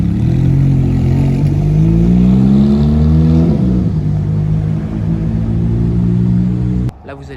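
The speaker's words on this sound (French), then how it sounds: "il y a des Porsche qui arrivent" Porsche sports cars arriving at an automobile club meet in Burgundy, a loud close engine rumble that rises in pitch as one revs, then settles into a steady drone before cutting off abruptly.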